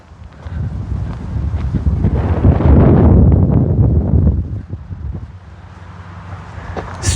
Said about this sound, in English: Strange wind patterns out there.